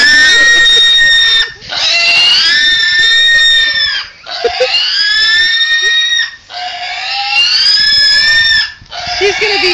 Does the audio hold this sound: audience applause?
no